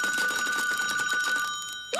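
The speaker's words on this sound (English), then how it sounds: "Wait, that's the phone." A cartoon telephone rings in a fast, continuous bell trill that runs loud and close for nearly two seconds, then cuts off abruptly into a brief noise.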